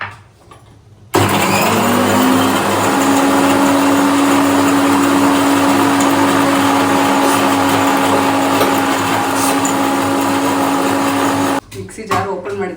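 Mixer grinder running in a home kitchen, starting abruptly with a loud steady whirring whine that holds for about ten seconds, then cuts off, with faint talk and rattles around it.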